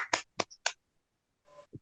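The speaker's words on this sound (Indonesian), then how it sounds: "Tepuk tangan dong" A few sharp hand claps in quick succession, then a brief pause and another short burst of clapping, all close and crisp against silence.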